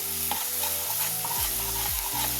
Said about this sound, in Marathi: आता हे दोन्ही आपल्या तेलावर छान परतून घ्यायचे एकत्र।